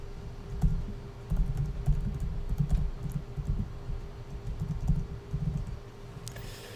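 Someone types a sudo command on a computer keyboard, a close run of quick soft key clicks in bursts with brief pauses.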